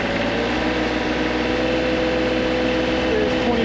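An engine idles with a loud, steady, even drone and a constant low hum, close by and with no talking.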